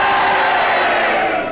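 A studio audience on a panel game show roars together in a loud sustained crowd shout, booing a challenge in one unbroken wave of voices that fades slightly at the end.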